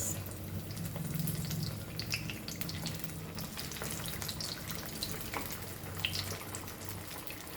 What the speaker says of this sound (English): Oil is hot and we will